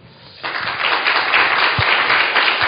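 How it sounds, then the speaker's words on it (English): Church congregation applauding at a Sunday worship service, steady broadband clapping that starts abruptly and holds at a moderate, even level across the hall. "Why don't we give the round of applause to our Gianni who provided this catechism?"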